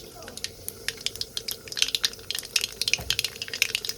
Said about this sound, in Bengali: এরপর আমি এর মধ্যে দিয়ে দেবো কালো জিরে ফোড়ন